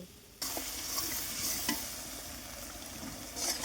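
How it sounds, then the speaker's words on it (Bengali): Ground spice paste of cumin, ginger, chili, garlic and onion sizzles in hot oil, starting abruptly into a steady bright frying hiss with a few stirring scrapes, close and clear. "মশলাটাকে যতক্ষণ থক থকে না হয় ঠিক ততক্ষণ ভালোভাবে কষিয়ে নেব"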